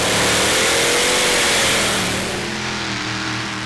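A 1500-horsepower Chevy 572 engine in a mini pulling tractor at a tractor pulling championship roars loud and sustained, then eases off slightly as it pulls away.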